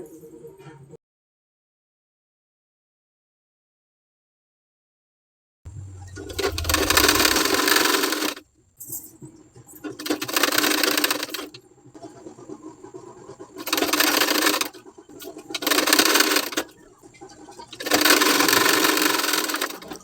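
A sewing machine stitches a border onto a sleeve in several loud, close bursts of steady whirring, separated by short pauses, after a silent stretch at the start.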